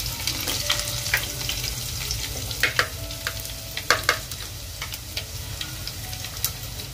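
Potato masala and spices frying in hot oil for an egg masala dish, a steady sizzling hiss with sharp crackles and pops scattered throughout, close up and with no talk.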